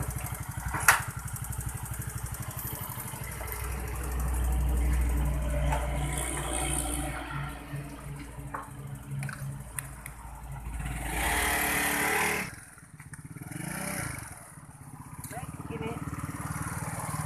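A Yamaha Mio scooter fitted with a replacement King carburetor runs close by, its engine note steady with a brief rise around the middle, under occasional speech.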